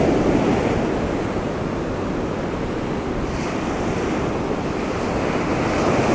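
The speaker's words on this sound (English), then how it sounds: "you'll see these waves just kind of rolling in to my right side" Ocean waves roll steadily onto a beach during surf fishing, a continuous loud wash of surf with wind buffeting the microphone and no voices.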